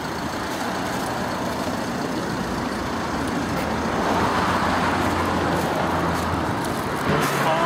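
Fairly steady road traffic passing close by on a walk from Hornsby to Pymble, NSW, Australia, a continuous loud roar of cars swelling as vehicles go past, with no talking.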